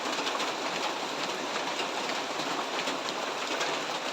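Steady, dense rain hisses continuously without a break, a broad even wash of sound with no voices.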